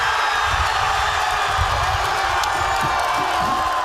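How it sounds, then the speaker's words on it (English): Soccer fans gathered in Calgary cheer a Canadian goal, a dense, steady roar of crowd cheering and whooping with scattered shouts, loud and continuous from start to finish. "Thousands in the city joining the chorus of Canadians cheering on the nation's soccer team."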